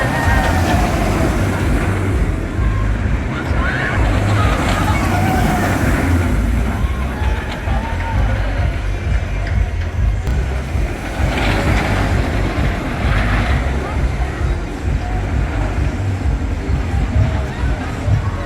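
Hydra roller coaster ride at Dorney Park, with a constant loud rumble of the train and wind roaring throughout and riders' voices faintly audible under the noise.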